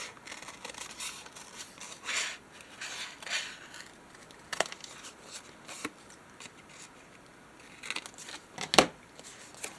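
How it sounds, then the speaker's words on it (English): Scissors snip a paper figure's legs for a junk journal: several close, scattered crisp cuts and paper rustles, with a sharper snip near the end. "I feel like I should cut out his legs so he's not totally flat on the bottom."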